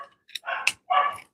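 Dogs barking downstairs in a house, two or three sharp barks separated by brief pauses, heard at a slight distance with nothing else around them.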